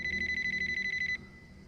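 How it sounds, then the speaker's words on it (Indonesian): A mobile phone rings from upstairs with a rapid trilling electronic ring that repeats for about a second and then cuts off, leaving a quiet room. "Tiba-tiba ada suara HP bunyi dari lantai atas."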